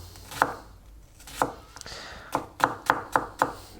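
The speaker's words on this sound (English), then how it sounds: "how finely you want to chop them" A knife chops onion on a cutting board in sharp, close taps, a few spaced strokes followed by a quicker run of five.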